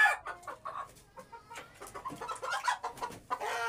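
An Aseel rooster clucks repeatedly in short, close bursts, with soft farmyard background and no talking.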